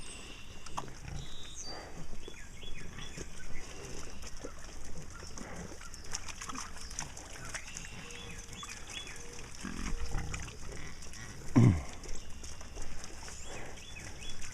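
Pigs out on a farm, grunting and snuffling in scattered bursts against an outdoor background. One loud, sharp squeal or grunt stands out near the end.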